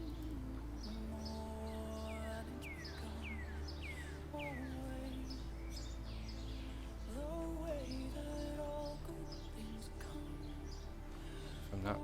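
Little bird chirps and tweets run through a fantasy game's ambient soundtrack, light repeated calls sitting over a steady low musical bed, with speech-like murmuring mixed in throughout.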